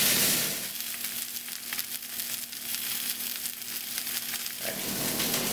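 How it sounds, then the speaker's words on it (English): An ahi tuna steak of about ten ounces sizzles loudly in a hot pan, a steady, dense frying hiss that holds for several seconds with no talking. "Hear that sizzle. That's what you want to hear."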